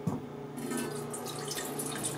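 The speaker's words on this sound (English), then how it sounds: "you just pour water" Water running from a tap or bottle into a pot for boiling dumplings, a steady close splashing and trickling stream with a few drips at the start, heard alone without talk.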